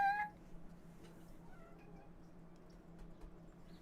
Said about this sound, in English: very tiny meow. She meows anytime I touch her.